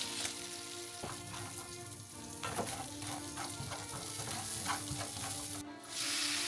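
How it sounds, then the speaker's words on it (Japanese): Firm vegetables stir-fried in an iron frying pan after meat has been browned and removed: a bright, steady sizzle is broken by irregular stirring scrapes and knocks, with a short dip and then a fresh surge of frying. "お肉に焼き色がついたら一度取り出して、硬い野菜から順に炒めていきます。"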